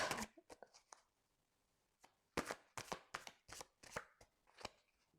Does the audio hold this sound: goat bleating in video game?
no